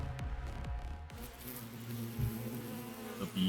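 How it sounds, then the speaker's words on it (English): A huge swarm of bees in The Hundred Line: Last Defense Academy video game, a dense, steady insect buzz that fills the scene, with a few swooping passes near the start over a low background hum. "Huge swarm of bees appeared"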